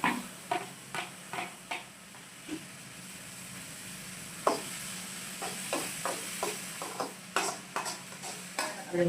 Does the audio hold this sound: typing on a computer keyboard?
no